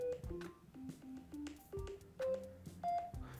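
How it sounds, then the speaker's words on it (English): A series of short electronic keypad tones from an iPhone phone app with customized button sounds, one after another at an uneven pace, each a brief pitched beep, fairly clear and close. "KeyboardCall will customize the way the buttons sound on the phone app"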